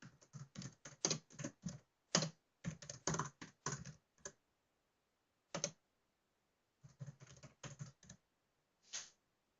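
Bursts of typing on a computer keyboard while entering a name and description into a software form, rapid clustered key clicks separated by short pauses, close and alone.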